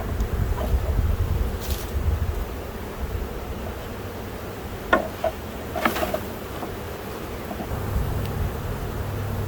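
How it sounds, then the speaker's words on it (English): Honeybees from a big queenless spring colony buzzing steadily as they are shaken off a frame into a hive, a low continuous hum with wind rumble and a few brief sharp knocks near the middle. "I'm just going to shake those bees down in here."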